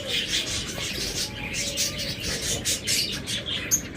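Caged finches chirp in quick, high, overlapping tweets at close range, with faint background noise underneath.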